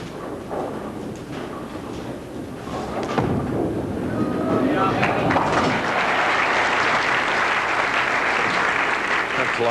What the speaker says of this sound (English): Applauding on his way back.